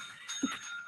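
A dog rings a small bell, giving one quick, bright ding over a faint steady tone, short and fairly soft.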